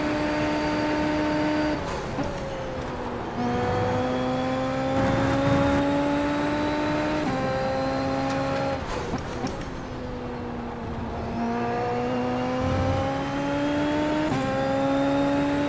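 Super Formula open-wheel race car engine in the iRacing sim, a steady high-pitched whine holding pitch with brief drops at gear changes before climbing again, loud and continuous with no talk.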